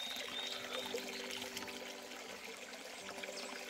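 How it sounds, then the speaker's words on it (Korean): A small, pretty waterfall in a cypress forest village in Wanju, Jeonbuk, gives a soft, steady trickle and splash of flowing water, fairly faint and continuous with no talk. "이렇게 작고 예쁜 폭포도 있습니다."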